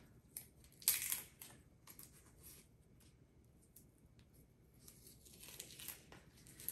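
Papery onion skin is peeled off by hand with the fingernails, giving soft close crinkling and tearing, a sharper crackle near the start and faint rustling after.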